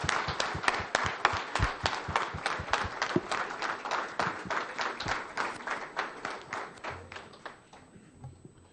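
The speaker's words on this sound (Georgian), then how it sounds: "მივესალმოთ აპლოდისმენტები" An audience at the second Georgian diaspora professional forum gives sustained applause, a dense rhythmic clapping that fades out toward the end.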